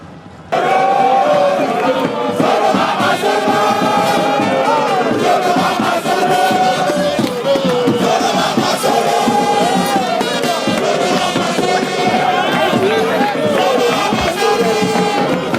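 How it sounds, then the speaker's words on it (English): A dense crowd of soccer fans roars and chants continuously, loud and close, with many voices merging into a sustained wall of cheering that holds steady throughout. "Imagine the streets filled with fans wearing green and white, cheering loudly when the Super Eagles play."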